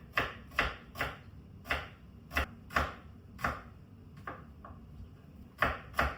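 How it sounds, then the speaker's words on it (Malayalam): An onion sliced lengthwise with a knife on a board, a series of crisp, distinct chops at an uneven, unhurried pace, close and clear with no talk. "ഇത് നമുക്ക് നീളത്തിന് അരിയാം. 1 എണ്ണം നമുക്ക് നീളത്തിന് അരിയാം."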